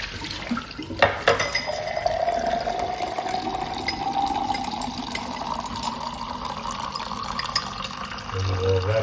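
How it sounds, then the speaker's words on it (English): Hot water gushes steadily from the cold-side tap of a plumbing fixture with a fault, a continuous close hiss and splash that holds without a break. "Plenty hot water coming out of the cold side would be the point."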